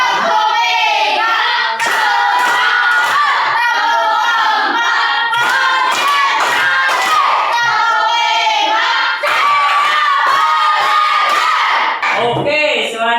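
Classroom group clapping in a counted rhythm during an ice-breaking game, a steady run of sharp hand claps from many people close by, with shouting voices mixed in and a brief pause near the end.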